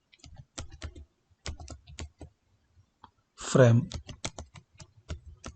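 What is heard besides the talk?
typing on a computer keyboard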